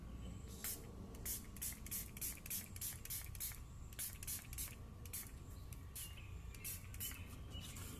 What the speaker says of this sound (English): spray this onto the headlight